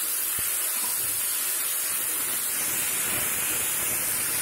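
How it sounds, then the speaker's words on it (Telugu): Tomato pieces sizzle in a hot pan already holding fried garlic and ginger for a green pea and spinach curry, a steady, loud hiss that goes on without a break. "టమాటా ముక్కల్ని వేసుకుందాం."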